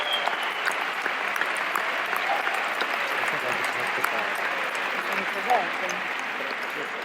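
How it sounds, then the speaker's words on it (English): Applause from a large audience at a team gathering, a steady dense patter of many hands sustained for several seconds, with faint voices mixed into the crowd noise. "Give yourself a round of applause."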